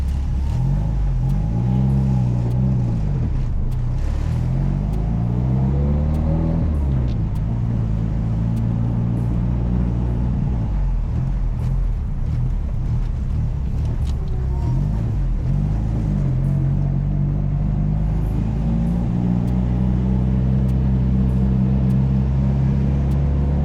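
Big-turbo Mitsubishi Evo X with a manual gearbox driving, its engine drone loud and continuous throughout, rising and falling in pitch through gear changes and throttle swells.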